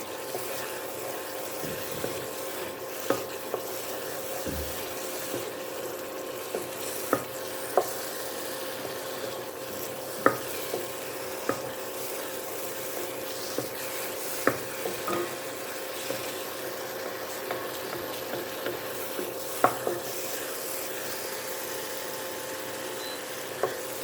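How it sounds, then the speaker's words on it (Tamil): Beetroot halwa being stirred in a pan: a steady soft sizzle runs throughout, broken by frequent light scraping knocks of the spoon against the pan, fairly close and without talk. "அல்வானாலே உங்களுக்கு தெரியும், கொஞ்சம் பொறுமையாக கிண்டணும்."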